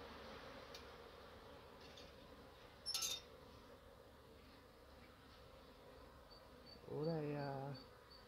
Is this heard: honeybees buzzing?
yes